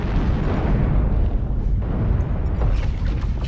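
Missile explosions from medium range missiles in MechWarrior Online, a dense, continuous rumble of overlapping blasts with booming low end, sustained loud throughout with no pauses.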